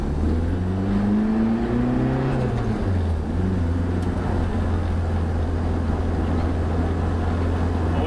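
Loud, close exhaust drone from a car fitted with a boom tube exhaust carrying only one silencer: the note climbs and dips through a short rev, then holds a heavy, resonant cruise tone.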